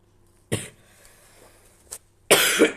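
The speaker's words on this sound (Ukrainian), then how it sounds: "Коротше, бешено кашлюю, вибачайте." Three sharp coughs, two closely spaced at the start and a louder burst near the end, close to the mic with a quiet pause between.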